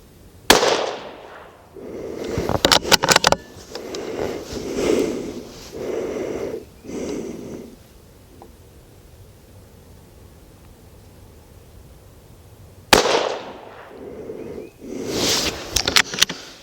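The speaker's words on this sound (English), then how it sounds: "these Hornady 17 grain loads shoot the best out of this rifle" A Savage 93 rifle in .17 HMR fires Hornady 17 grain loads at the range: two sharp, loud cracks about twelve seconds apart, each ringing out briefly, with quieter handling noise and gusty rustling in between.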